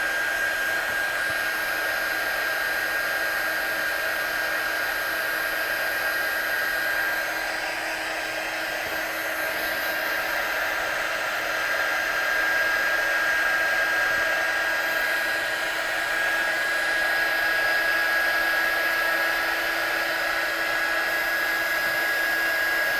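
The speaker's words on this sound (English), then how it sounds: "as we're drying it off, because I'm using a heat tool, it burns the pigment" A heat tool blows steadily for a long stretch to dry watercolour stamping ink, a constant loud whirring hiss with a faint high whine, close by and alone.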